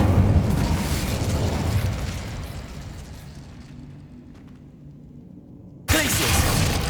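Incendio fire spell cast in Hogwarts Legacy, a loud rushing burst of flame that fades over several seconds, then another sharp blast starts abruptly.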